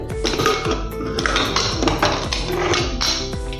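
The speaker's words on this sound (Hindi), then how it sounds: "अभी हम ढक्कन खोलेंगे।" A steel pressure cooker lid is opened after the cooker has whistled four times and cooled, with chickpeas cooked inside; repeated close metallic clanks and scrapes of metal on metal, with no talking.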